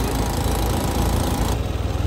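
A motorbike engine runs steadily while riding along a sea beach at Cox's Bazar, a continuous loud close rumble mixed with wind buffeting and no pauses.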